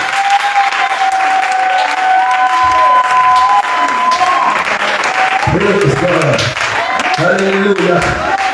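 A church congregation claps and cheers in praise at a sermon, a dense, loud roar of applause and voices filling the room while a speaking voice carries over the top.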